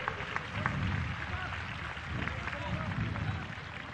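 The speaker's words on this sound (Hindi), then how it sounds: "पीछे बैठे हुए लोग आवाज नहीं आ रही है तो वो लोग भी ताली बजाएं" Crowd clapping together at a scouts' program, a dense steady patter of many hands that holds evenly for about four seconds, with a murmur of voices underneath.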